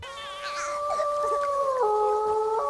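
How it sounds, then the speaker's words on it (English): A wolf in The Rugrats Movie howls in one long, steady, close tone that dips slightly in pitch near the end and then lifts again. "a wolf howl scares off the other"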